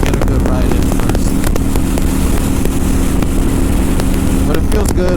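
A 2018 Kawasaki Vulcan 900 Custom motorcycle drones steadily on the move, its low engine note running under heavy wind rush against the rider's helmet microphone.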